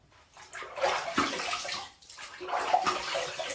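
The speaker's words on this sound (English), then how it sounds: "Let's rinse." Running water splashes steadily as a double-edge safety razor is rinsed under a tap, two close bursts of flow with a brief pause between them and no talking.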